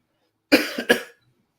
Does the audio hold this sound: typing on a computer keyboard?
no